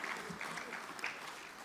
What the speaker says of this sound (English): With a huge round of applause, I request everyone to welcome Gaurav.